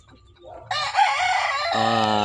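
A sweater-breed gamefowl rooster crows once, loud and close, with faint clucking just before it.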